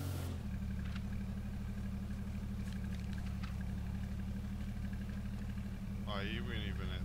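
A low, steady engine hum of a ute idling along in the video game H1Z1, continuous and fairly quiet, with a voice briefly speaking near the end.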